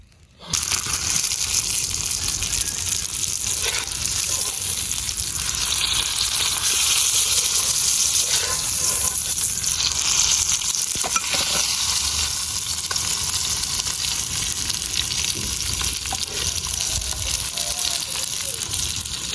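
Fish frying in a pan for a village-style fish fry, a loud continuous oil sizzle that runs steadily from start to finish with faint background voices.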